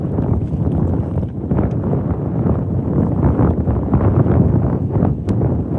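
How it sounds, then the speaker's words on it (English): Wind over a lake during bass fishing, roaring steadily into the microphone as a loud, low, rumbling buffet that keeps surging and fading in gusts without letting up. "If you can hear that wind, type wind in the chat."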